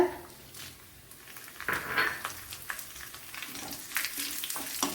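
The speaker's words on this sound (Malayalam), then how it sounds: "പച്ചമുളക് ഇട്ട് കൊടുക്കുക" Green chillies tossed into hot oil with mustard seeds and shallots for an anchovy pumpkin curry, producing a close, bursting sizzle that swells after a quiet start, with light clinks of a utensil against the pan.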